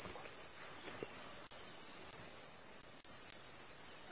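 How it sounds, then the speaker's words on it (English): Cicadas shrill from inside an acacia tree on a sunrise African safari, a loud steady high-pitched drone that runs the whole time with only a few brief dips, nearby and alone without voices. "Listen to the incredible shrill coming from this acacia tree and the cicadas or cicadas within it."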